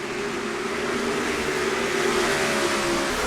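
Stock cars run three-wide in a Vermont 250 race in the NASCAR Racing 2003 video game, a loud, steady engine drone with an unbroken roar and no pauses or voices.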